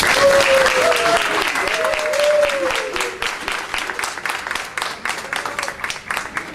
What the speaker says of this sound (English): So if you could please give him a round of applause